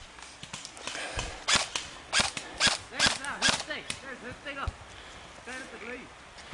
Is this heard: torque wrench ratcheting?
no